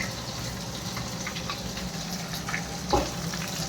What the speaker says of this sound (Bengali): আর এদিকে এই যে মাছ ভাজা হচ্ছে